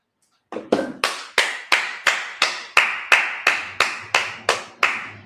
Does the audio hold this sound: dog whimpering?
no